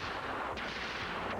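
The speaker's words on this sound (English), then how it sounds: "the only requirement is that your submachine gun is fully automatic" A fully automatic submachine gun fires on a jungle-walk combat course, heard as a dense, continuous rattle with two sharper bursts standing out, loud and alone without speech.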